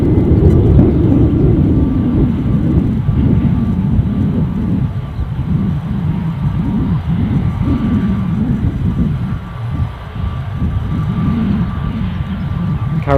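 A Scandinavian Airlines jet departing Edinburgh airport, heard as a loud, continuous low-pitched engine roar that stays steady for the whole stretch with slight fluctuations, no voices over it.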